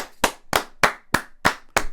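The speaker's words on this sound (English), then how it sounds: "Let's give a round of applause to that medical practitioner" Six sharp hand claps, evenly spaced about a third of a second apart, close and loud, on a podcast set as a round of applause for a medical practitioner.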